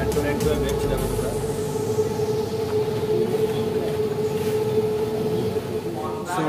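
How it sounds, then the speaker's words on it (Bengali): A Kolkata metro train running on the line from Sealdah toward Salt Lake, a loud continuous rumble with a steady tonal whine, heard from inside the carriage while a person talks over it. "মেট্রো লাইন করে বেরোচ্ছে দেখো তোমরা।"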